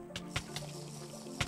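Water splashes in a Minecraft mini game, a few short separate splash bursts spaced unevenly over a faint steady background hum.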